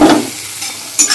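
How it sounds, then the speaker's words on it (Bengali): Masala spices sizzling in a hot pan as they are stirred, with a sharp burst of frying at the start and another at the end, close and fairly loud. "মশলাও ভাজা ভাজা হয়ে গেছে।"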